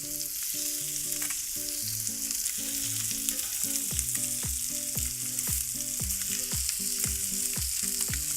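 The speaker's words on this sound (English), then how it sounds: "Let's put a little bit more butter so it's got something to cook with." Cajun cod fries in butter in a pan, giving a constant, dense sizzling hiss close by. Background music with a bouncy melody plays underneath, and no one speaks.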